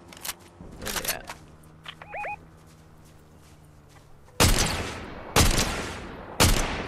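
Gunfire rings out in a multiplayer shooter game: scattered distant pops and a brief electronic tone early on, then three loud, sharp nearby shots roughly a second apart, with faint talk in between.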